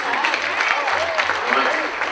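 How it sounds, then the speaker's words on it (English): Audience applause at an award ceremony, steady crowd clapping that carries evenly throughout, with a voice speaking over it. "Let's give him a round of applause as he comes to the stage."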